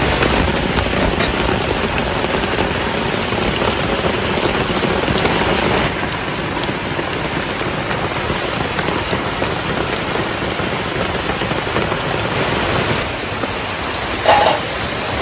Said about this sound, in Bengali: আগেই এত রোদ, আবার দেখুন বৃষ্টি হচ্ছে।